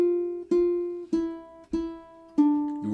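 Five plucked ukulele notes in a short beginner melody, each sharp attack ringing and decaying before the next, evenly spaced and close, alone with no talking.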